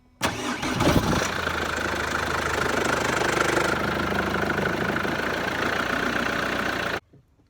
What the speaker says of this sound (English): we'll just crank it over, let the engine tick over